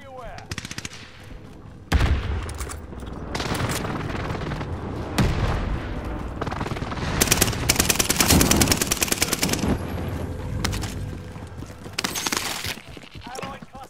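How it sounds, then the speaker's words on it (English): An allied precision airstrike pounds down in a combat video game: bursts of rapid gunfire and heavy blasts come in loud clusters over about fourteen seconds, with a voice announcement heard alongside. "Allied precision airstrike incoming"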